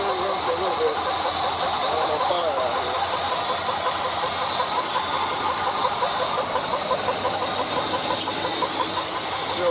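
A 1976 GMC Sprint engine with a leaking fuel pump runs roughly at a steady idle, giving a continuous mid-pitched hum with faint knocking and hiss.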